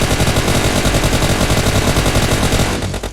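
Dense, continuous automatic gunfire from the mobile battle royale game PUBG Mobile, loud and close with rapid overlapping shots for about three seconds before trailing off slightly at the end.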